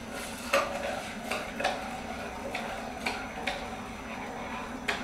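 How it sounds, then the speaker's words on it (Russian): A spoon scrapes and clinks against a metal pot in slow repeated strokes while rinsing grains in cold water, close and fairly quiet, with water swishing faintly underneath. "Помешивая ложечкой."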